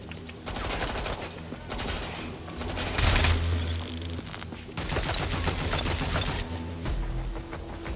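Rapid bursts of gunfire in a video game firefight, sharp volleys crackling close and loud with brief pauses, a heavy blast in the middle, and shooting resuming.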